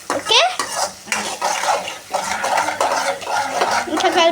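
Garlic rice being stirred and fried in a pan over low flame with salt, a spoon scraping and clattering against the metal in quick, irregular strokes over a soft sizzle, close and fairly loud throughout.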